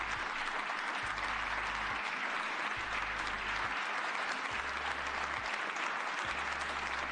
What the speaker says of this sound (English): Look at that long applause that he's getting.